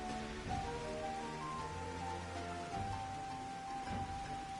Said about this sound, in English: it's been raining in Idleshire since we got here